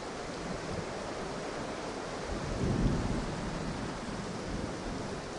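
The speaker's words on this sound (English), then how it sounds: "so there's our rain" Steady heavy rain pours over a yard during a thunderstorm, a broad hiss with a low rumble of thunder swelling briefly in the middle.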